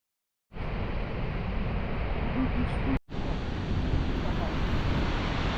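A loud, steady roar of rushing water from Kumbhe waterfall in the monsoon fills the air, broken by a brief cut before the continuous torrent resumes.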